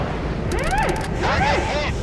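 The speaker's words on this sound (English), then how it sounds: "Missile launched at target." A missile launches and strikes its target in a naval warfare video game, two sweeping whooshing tones rising and falling one after another over a steady low rumble, with sharp crackling bursts at the start.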